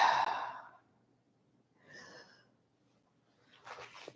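Deep breathing during a relaxed yoga session, a long slow exhale followed by two softer breaths in and out, separated by quiet pauses, close and gentle.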